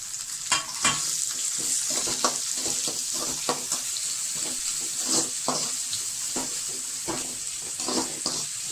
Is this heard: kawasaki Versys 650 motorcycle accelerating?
no